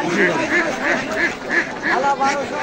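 Ducks quack in a steady, repeated run of close, loud calls at a busy duck market in Bangladesh, with people haggling and crowd chatter underneath.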